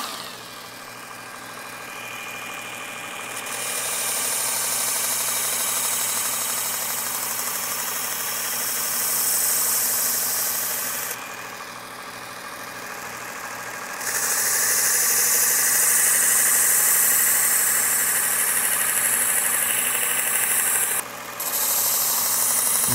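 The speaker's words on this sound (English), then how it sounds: "So now we're gonna sharpen a knife that we make using the Ken Onion edition." Work Sharp Ken Onion edition belt sharpener grinding a handmade knife blade, a steady loud motor drone with a high abrasive hiss that rises and drops as the blade is pressed and lifted across several passes.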